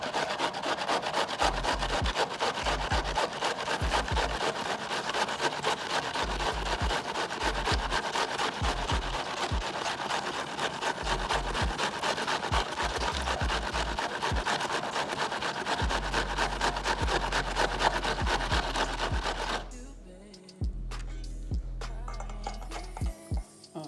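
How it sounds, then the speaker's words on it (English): Cabbage being grated by hand for homemade coleslaw, a steady close scraping rasp repeating in quick strokes for about twenty seconds before stopping into quieter handling noises. "So I'm going to grate the cabbage now."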